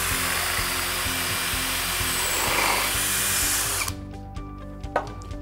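A multi-purpose drill bit bores through a piece of wood with a loud, steady power-drill whine that runs for nearly four seconds, then stops abruptly, leaving a few faint clicks and a softer mechanical tail.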